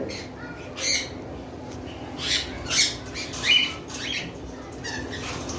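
A breeding pair of lovebirds at a bird farm, a male and a female, gives several short, harsh squawks in separate bursts over a steady background hum.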